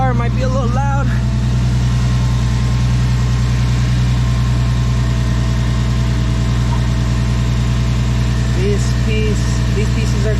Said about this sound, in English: Turn on my car. I'm gonna let it idle for like 5 minutes.